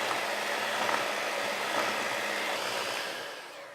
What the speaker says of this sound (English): I suggest using a hand mixer rather than a spoon because it gets it a little bit creamier for you